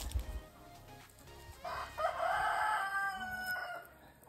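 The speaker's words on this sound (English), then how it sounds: "I was trying to listen to the content sounds of the hens." Hens vocalizing nearby, a rooster-like crow and contented clucking sounds rising over a low background, loud in the middle of the clip.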